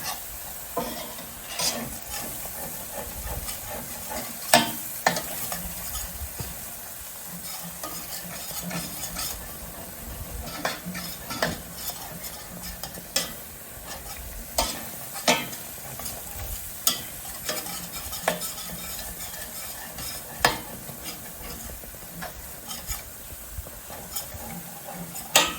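A flour roux cooks in a pan while being stirred, giving a soft, steady sizzle with frequent small scrapes and taps from the utensil against the pan, fairly quiet and without speech.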